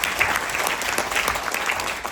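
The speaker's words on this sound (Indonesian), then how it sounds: "Kita tepuk tangan untuk mereka semua yang" Brief burst of audience applause at a political gathering addressed by Anies, dense and steady clapping from a crowd, fairly close and alone without talk.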